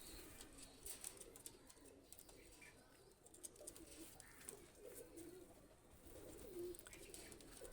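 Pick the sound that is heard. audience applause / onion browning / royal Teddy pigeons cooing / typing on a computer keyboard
royal Teddy pigeons cooing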